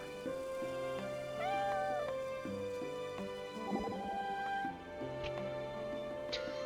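A cat gives one short, arched meow partway through, quiet against steady background game music with light clicks and tones, no voices present.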